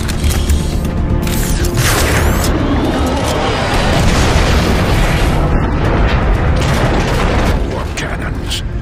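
Heavy, continuous warp cannon explosions and booming blasts in Transformers: Fall of Cybertron, loud and dense, with mechanical rumbling and voices buried underneath.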